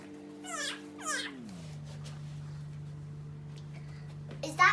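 A child imitates a cat with a few rising, whiny meows, followed by a long steady electronic hum and a short burst of sound at the end.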